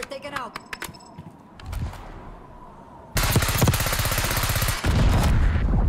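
Gunfire in the shooter Black Ops 6, with a few sharp shots at first, then a loud, sustained stretch of rapid automatic fire that lasts to the end, close and intense, while a voice speaks briefly.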